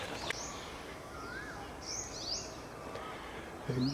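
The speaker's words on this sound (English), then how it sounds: "Quite tranquil here, as you can hear" Faint bird chirps and short calls drift in from a distance over a soft outdoor hush, scattered and irregular, along a stony pilgrimage path in Sukhothai Historical Park, Thailand.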